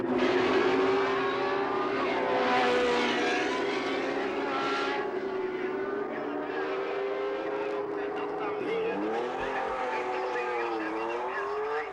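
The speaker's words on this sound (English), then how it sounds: "2 laps later, his rear tyre blew with the following results." A 1979 Formula One car racing on after a rear tyre blowout, its loud sustained high-revving engine drone shifting in pitch as it passes, with commentary talk over it.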